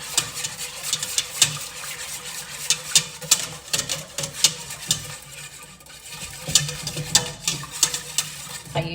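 Whisking French toast batter with orange, vanilla bean and cinnamon in a bowl: a rapid series of close, sharp clicking taps from the whisk against the bowl, in uneven bursts with a brief lull midway.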